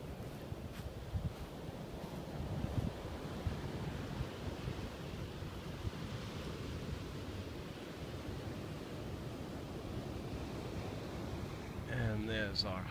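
Ocean waves and surf roll in behind a beach cottage, a steady, unbroken wash of broadband noise mixed with wind buffeting the microphone, continuous and fairly loud throughout.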